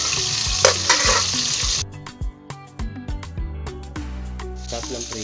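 Galunggong fish fry in hot oil, sizzling and crackling loudly, then sharp scraping and clattering of a utensil before the sizzle swells again.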